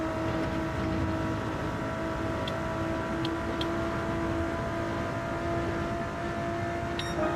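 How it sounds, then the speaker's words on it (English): A racing car's engine in Gran Turismo 7 at the Deep Forest track holds a steady, loud drone near the rev limit, with a constant tonal whine and a few brief higher blips. "Revving out just a tad too much."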